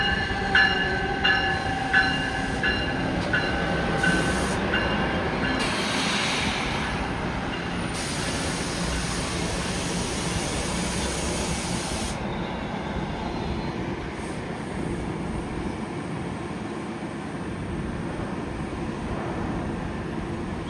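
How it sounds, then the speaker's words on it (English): A northbound NJ Transit commuter train of older Comet cars rolls into a station: a steady, loud rumble of wheels on rails with high squealing and hissing brakes, continuing for around twenty seconds with no talk. "now the northbound NJ Transit train's gonna pull in here"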